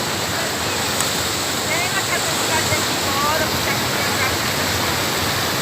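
A waterfall at Guaramiranga roars continuously and evenly, a dense, loud hiss of falling water filling the whole stretch without a break.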